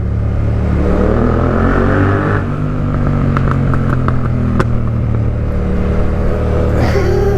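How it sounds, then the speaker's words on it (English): Yamaha MT-07 motorcycle revving in second gear under a bridge, a loud, close engine rising and swelling with echoing blips over steady riding noise. "I want to give it a little blap underneath the bridge"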